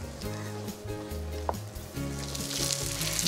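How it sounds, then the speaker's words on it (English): Cod and cheddar fish cakes sizzle and fry in a pan, giving a steady, close crackle that runs under background music. "Now I'm going to start cooking the codfish. Now in the pan for about 4 to 5 minutes."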